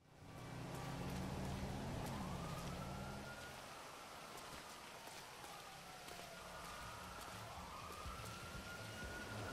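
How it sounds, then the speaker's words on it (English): Rain falling in GTA 5 Online, a faint steady patter heard alone, with a rising and falling police siren wailing in the distance through the middle and end. "Why does it have to rain?"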